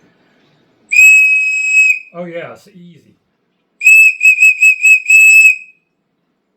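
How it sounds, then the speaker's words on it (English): A piercing, very loud 3D-printed whistle blown in two blasts, the second broken into rapid pulses, with a short spoken remark between them. "Good whistle to have when you're out hiking. Optimized extremely loud whistle."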